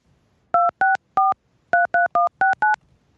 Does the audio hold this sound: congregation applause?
no